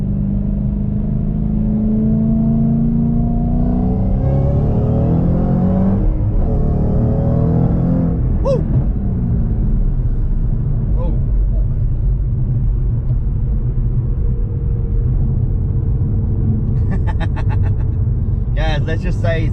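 A Ford GT500 engine run at full throttle on a dyno: a loud, close mechanical rumble whose pitch climbs and falls through the rev, continuing as a steady drone while people talk over it.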